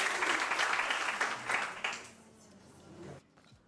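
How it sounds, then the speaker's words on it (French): Enthusiastic applause from the audience at a TikTok awards show, loud dense clapping for about two seconds that then thins and fades out. "nous pouvons déjà les applaudir bien fort"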